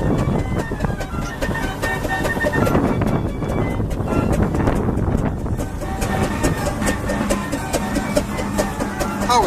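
Steam road locomotive rolling into a vintage rally in Gloucestershire, loud and close, with a continuous heavy chuffing rumble, clanking and hiss that holds steady throughout alongside wind buffeting on the microphone.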